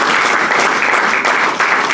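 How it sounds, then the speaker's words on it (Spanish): A church congregation bursts into dense, steady applause during a Spanish-language worship service, a continuous loud wash of many hands clapping with no pauses. "Regálele un aplauso"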